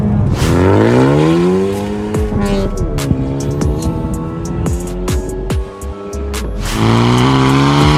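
A car's tyres spin and slip on the surface as the engine revs up and down in loud sweeping surges, with sharp squeals and a brief dip in the middle before the engine climbs again.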